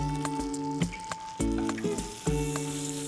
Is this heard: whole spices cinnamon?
yes